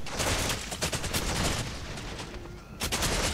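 Rapid gunfire from the Shogun 2 Total War video game, dense overlapping shots crackling steadily for a few seconds, loud and close, with a brief lull before another burst.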